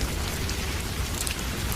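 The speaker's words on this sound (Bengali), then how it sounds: "একথা ভাবতে ভাবতেই বৃষ্টি শুরু হয়ে গেল।" Steady rain sound effect for a Bengali horror cartoon, a dense, even hiss of falling rain that holds at the same loudness from start to finish, with no voices.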